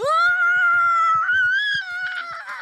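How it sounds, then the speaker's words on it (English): The cartoon mother Chili from Bluey screaming, a long loud high-pitched wail that wavers and rises before breaking into shorter cries near the end. "we see Chili's voice actor give a 10 out of 10 performance with her screaming"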